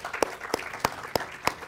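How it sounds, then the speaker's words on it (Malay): Sparse applause at a podcast recording: about five separate, sharp claps in a steady, evenly spaced rhythm, moderately close and fairly quiet. "Dan yang kedua adalah kita berikan tepukan juga"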